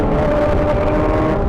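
A car rushes past a Honda CBR1000RR-SP2 on a long ride on the Bataan loop, heard as a loud, steady roar of engine and wind at close range.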